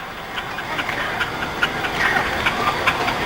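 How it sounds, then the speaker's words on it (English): Steamrollers and traction engines arrive at a historical cavalcade in Rushden, giving a steady, close mechanical rumble with rhythmic chuffing and knocking beats throughout. "we've now got the steamrollers and the traction engines all coming in"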